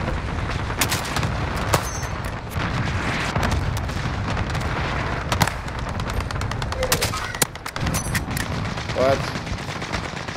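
Gunfire in Call of Duty: Modern Warfare: rapid, dense bursts of automatic shots crackle continuously throughout, with sharper single reports standing out, while a voice briefly speaks.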